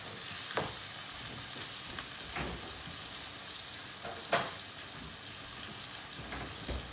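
Canned tomatoes fry in a pan with a soft, steady sizzle, and a spoon stirring them makes a few brief scraping strokes up close.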